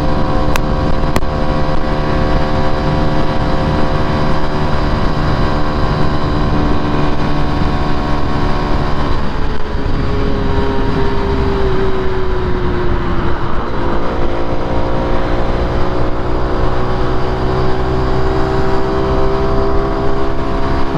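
A Honda Pop 110 motorcycle cruises on a highway with a steady, droning engine hum that holds for the whole stretch; its pitch dips and shifts in the middle as the ride changes pace, and the engine stays close and continuous.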